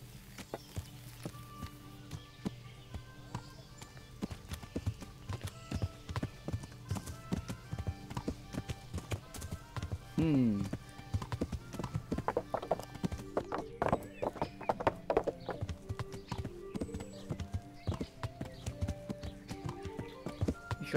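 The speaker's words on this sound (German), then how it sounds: "Ich reite jetzt doch mal hier noch so herum" Horse hoofbeats from riding in the medieval game Kingdom Come Deliverance: a steady clip-clop gait with a brief whinny, close and clear, while someone talks over it.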